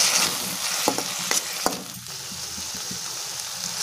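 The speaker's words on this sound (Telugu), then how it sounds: "సోయా సాస్ వేసుకొని ఒక 2 మినిట్స్ ఫ్రై చేసుకోవాలి." Vegetables and rice frying with soy sauce for chilli garlic fried rice, a close hissing sizzle broken by several sharp spatula taps and stirs, easing slightly toward the end.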